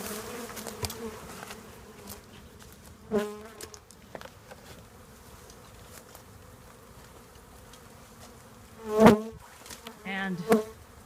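A backyard bee swarm in Denver hums steadily around a box being fitted with a lid, with several louder buzzing passes as bees fly close to the microphone.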